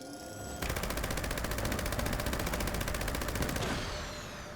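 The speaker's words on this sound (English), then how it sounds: "the Gauss minigun." A Gauss minigun in the video game Fallout 76 fires a loud, continuous rapid burst of electric-sounding shots for about three seconds before its spin fades out.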